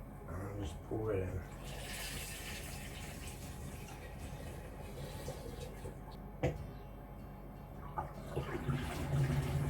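A chocolate honey mixture for mead, made with Rowse Chocobee and jars of honey, is scooped with a jug and poured through a funnel into a fermentation vessel. The sloshing, watery pour runs steadily for several seconds with small knocks of the containers.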